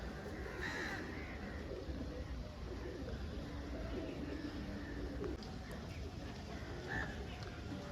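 Pigeons with yellow eye-rings coo at a busy bird market, their low calls steady and close amid a dense flock, with crowd murmur and other bird calls underneath throughout.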